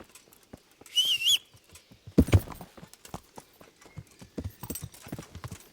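Horse hooves clip-clop at a steady walking rhythm in the medieval game Kingdom Come: Deliverance, close and moderately loud, with a brief whistle-like tone and a louder thud partway through.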